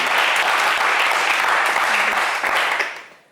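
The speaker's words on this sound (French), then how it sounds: "des applaudissements pour Adama" A television game-show studio audience claps loudly for a contestant, a thick, continuous burst of applause that fades out in the last moment.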